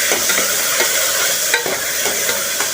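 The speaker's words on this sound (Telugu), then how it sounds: "కొంచెం ఫ్రై అవ్వనివ్వండి." Green chillies, curry leaves, potato, tomato and peas frying for a wheat rava khichdi, a loud close steady sizzle with soft periodic scrapes of a spoon stirring, no speech.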